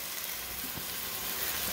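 Two cans of tomatoes frying in a hot pan, a steady broadband sizzle with faint stirring and crackle throughout.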